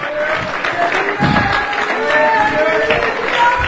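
A church congregation clapping their hands in praise during a sermon, a dense, loud patter of applause with crowd noise and voices mixed in, steady throughout.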